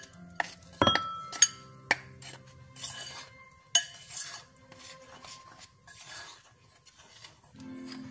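Baking powder and flour being stirred together in a bowl for puto batter, giving a series of light clinks and scrapes from a utensil against the bowl, fairly close with irregular rhythm and no talking.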